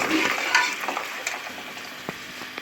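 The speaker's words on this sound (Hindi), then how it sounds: "तो फिर ये इसमें प्याज डल गए, और प्याज डाल के इसकी कर रहे हैं भुनाई" Chopped onions fry in a hot pan, a steady close sizzle with occasional stirring scrapes and light clicks, no voices.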